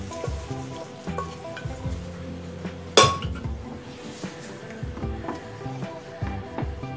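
Boiled pea dal with raw mango going into a pan on the stove, with a loud metallic clink partway through, soft scraping and stirring, and a low bubbling underneath, close and moderately loud.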